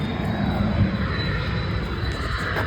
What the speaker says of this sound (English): Somebody's on takeoff roll